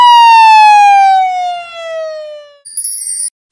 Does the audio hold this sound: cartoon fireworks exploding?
no